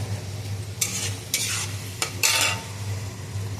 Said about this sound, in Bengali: আজকে আমি রান্না করছি, এটা হচ্ছে মুচমুচে করে আলু ভাজা